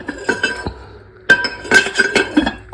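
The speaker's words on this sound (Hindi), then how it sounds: "और ये कुछ कांच के बर्तन हैं।" Glass dishes clink and chime as they are handled and unpacked from a box, a cluster of bright taps at the start, a short pause, then a busier run of overlapping clinks.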